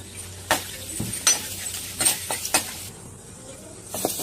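Fennel seeds dropped into hot oil already holding cinnamon, cloves and bay leaf, a soft sizzle broken by several sharp clinks and scrapes of a spoon against the pan, close by.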